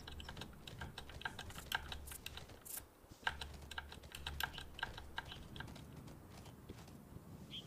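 Rapid keyboard keys mashed in quick bursts while playing the horse riding game Horse Tales: Emerald Valley Ranch, close and fairly soft, with a low game hum underneath and a brief pause partway through.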